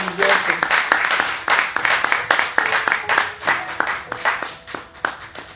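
A church congregation claps for the Lord during a Spanish-language sermon, a dense, uneven patter of hands. It rises and falls in rhythmic waves, close and steady, with voices faintly mixed in.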